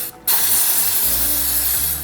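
Chain-cleaning spray hisses onto a motorcycle chain during home bike servicing, one steady close burst lasting nearly two seconds after a brief pause, with a faint mechanical whir underneath.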